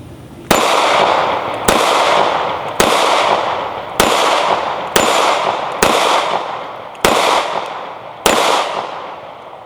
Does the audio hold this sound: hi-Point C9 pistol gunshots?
yes